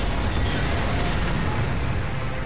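An explosion during a Godzilla VS battle on PS4 roars as a loud, sustained, dense blast that fills the whole stretch without a break.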